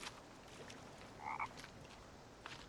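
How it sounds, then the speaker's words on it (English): A frog croaks once, brief and faint, in the dark at night in the survival game The Forest, set against a steady hiss of ambient background noise. "I hear a frog."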